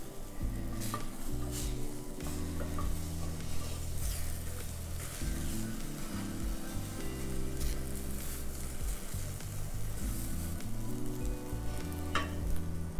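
Two-egg French omelette sizzling steadily in a frying pan, a continuous close frying crackle with occasional soft scrapes and utensil clinks, no talking.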